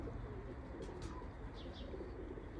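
Pigeons coo in a loft in Oman, distant and quiet against a constant low rumble, with a couple of brief higher chirps.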